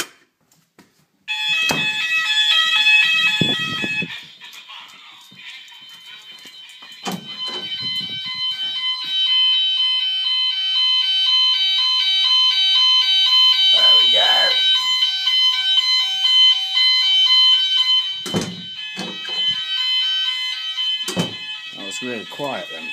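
A loud electronic fire alarm blares continuously with a high, pulsing tone, broken by a few clicks and short bursts of nearby voices.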